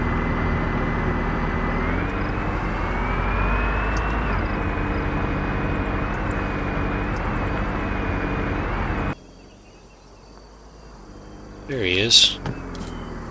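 A taxi car engine in Arma 3 hums steadily nearby as the vehicle pulls up, its tone rising slightly before idling, then cutting out abruptly; a voice speaks briefly afterward.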